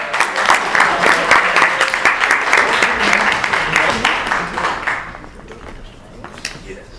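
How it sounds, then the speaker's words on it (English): Audience at a live comedy festival show applauds loudly for several seconds, a dense wash of clapping that fades out toward the end. "Give a round of applause for our..."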